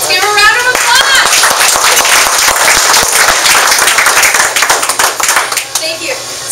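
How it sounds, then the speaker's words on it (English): Loud, close audience applause at a sales talk, with crisp individual claps standing out over a busy crowd and cheering voices, thinning toward the end. "Let's give her a round of applause."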